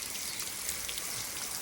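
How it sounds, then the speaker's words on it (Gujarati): Heavy rain falls steadily in a village, a dense, even hiss of drops with no voices, constant and close for the whole short stretch. "હજી પણ સખત વરસાદ ચાલુ છે"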